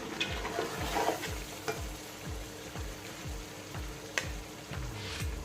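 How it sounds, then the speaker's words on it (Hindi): Garlic and ginger paste fries for mutton biryani under a quiet, continuous sizzle. A spoon scrapes the pan in a regular rhythm, about twice a second, with occasional light clicks. "अब इसमें लहसुन और अदरक का पेस्ट मिक्स करेंगे।"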